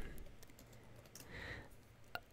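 Soft keystrokes on a computer keyboard while typing bash commands, a few scattered taps with one sharper click near the end, quiet and close with no speech.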